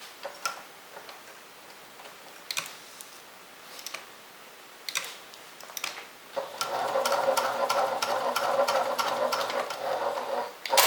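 A sewing machine quilts a row on a vanity bag, starting after scattered ticks and clicks of handling and then running steadily near and loud for the last few seconds.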